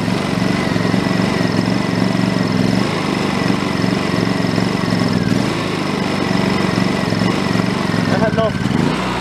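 A Honda EU2200i inverter generator runs at max throttle with a steady, buzzing mid-pitched engine drone, close and constant throughout, with a brief chirping noise near the end.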